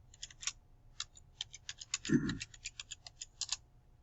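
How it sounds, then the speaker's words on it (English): Keys clicking in a quick, uneven run on a computer keyboard, crisp and close, with one duller thump partway through. "Now we're typing."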